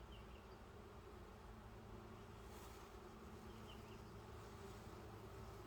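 Honey bees drone from an open hive in a dense, continuous buzz, close and steady, with no voices over it.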